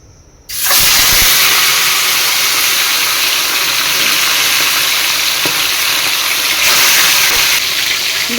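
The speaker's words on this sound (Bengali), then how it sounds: "কড়াইয়ের তেল তেতে গেছে, এক এক করে আমি মাছগুলোকে ছেড়ে দেব" Silver carp fish pieces fry in hot oil in a wok, a loud, steady sizzle that bursts in abruptly after a brief quiet start and holds strong to the end.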